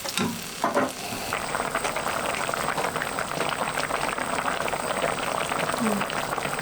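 Pork kimchi stew bubbling steadily in a pot, a continuous moderate boiling hiss with a few brief clinks near the start and no talking.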